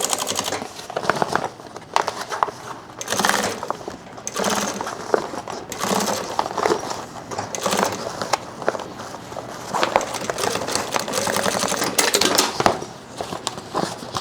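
A sewing machine stitches through backpack fabric, its dense mechanical whirring running in bursts of varying length, close and fairly loud, with brief pauses between runs.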